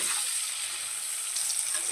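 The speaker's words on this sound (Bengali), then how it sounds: "এবার আলুগুলো ভালো করে ভেজে নেব।" Steady, dense sizzling of potatoes frying in hot oil, a continuous crackling hiss with no pauses, close and fairly loud.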